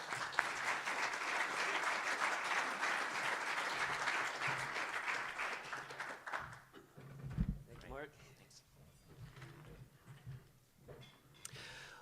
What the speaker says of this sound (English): please join me in applauding Rob Davis